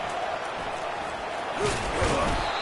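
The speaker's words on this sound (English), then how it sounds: "Listen to the crowd energy here in the early going." College football stadium crowd roars and cheers in the early going of a game, a broad steady din that swells louder toward the end, with no distinct voices on top.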